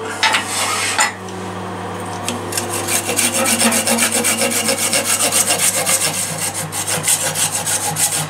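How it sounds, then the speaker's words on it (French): A hand saw rasps steadily through peach wood in quick, regular back-and-forth strokes, close and loud, with no talking. "À la scie."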